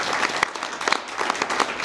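A theatre audience applauds after a stage performance, a brief, dense burst of clapping with sharp individual claps standing out, fairly close and steady throughout.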